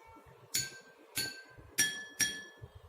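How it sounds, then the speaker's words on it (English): A glass holding water is struck four times in a slow, even rhythm, each bright ringing tone decaying quickly in a quiet room. "now we will struck one glass, and understand the sound"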